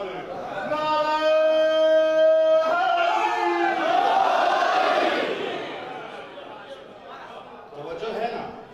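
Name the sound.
crowd chanting a religious slogan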